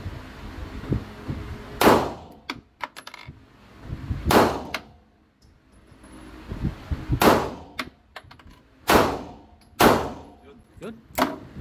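A CZ Shadow 2 pistol being zeroed at a shooting range fires about six sharp, loud shots spaced a second or two apart, each with a brief ringing tail, with quieter clicks and handling noises between them.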